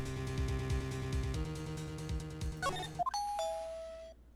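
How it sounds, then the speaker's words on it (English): Background music plays, then cuts to a short doorbell chime in the video game Ace Attorney Trials and Tribulations: a clear ringing tone that holds for under a second before fading into silence. "Ding dong."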